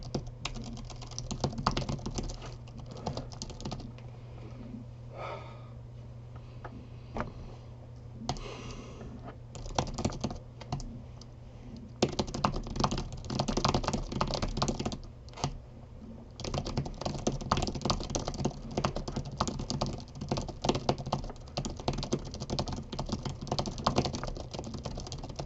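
A computer keyboard is typed on rapidly during a 10fastfingers typing test, a dense, close patter of key clicks that pauses briefly near the start and middle before resuming at full speed.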